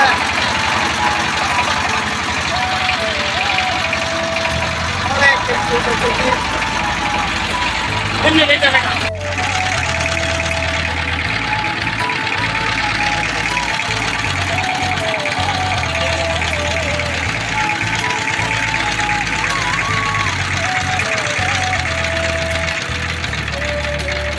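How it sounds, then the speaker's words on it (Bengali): A boat engine drones and knocks steadily throughout, loud and close, with a brief clatter midway and voices talking over the engine. "আমার নৌকা চালাইতেছে।"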